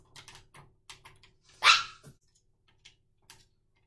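A tamed wolf, a dog in the Minecraft video game, gives one sharp, close bark midway through. Soft, rapid clicks like keyboard or mouse input tap on and off around it.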